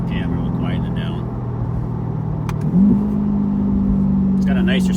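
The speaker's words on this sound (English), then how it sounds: "Now you can hear more of the exhaust." Chevrolet C8 Corvette Le Mans Edition with an aftermarket center exhaust, its engine burbling at a steady idle-like drone before a sharp blip as it downshifts, then settling into a louder, deeper hum; someone talks over it briefly.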